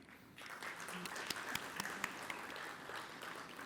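Audience applause at a corporate ESG leadership summit keynote, welcoming speaker Dr. Mario Schmidt: a steady wash of clapping from a large room, with a few sharper individual claps standing out, moderately loud and continuous.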